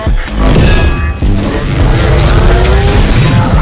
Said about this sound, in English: That's the sound of lightning.